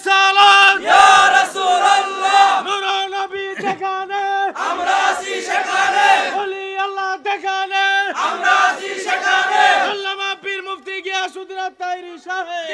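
A large crowd chants the religious slogan Allahu Akbar in loud repeated bursts, about four swells of massed voices over a sustained tonal hum, with short pauses between each call.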